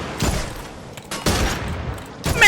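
Short bursts of rapid gunfire in the video game Free Fire, three volleys separated by brief pauses, loud and close, with no speech over them.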